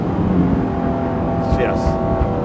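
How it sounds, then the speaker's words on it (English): An Aston Martin One-77 engine with a lighter flywheel revs up to about 4,000 RPM and spins freely, loud and close, with a brief higher whine partway through. "it doesn't sound like any other Aston because I think it's the lighter flywheel, it just revs quicker"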